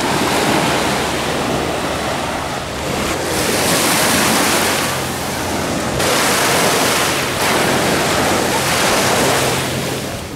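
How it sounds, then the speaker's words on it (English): Strong wind buffets the microphone at the beach, a loud, roaring rush that swells and eases in gusts, with surf noise mixed beneath and no talking. "Sorry about the wind."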